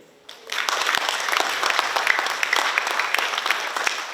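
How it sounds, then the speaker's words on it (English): After a brief quiet moment, a graduation ceremony audience breaks into sustained, dense applause for families and friends, clapping steadily and fairly loudly to the end. "let's give them another round of applause"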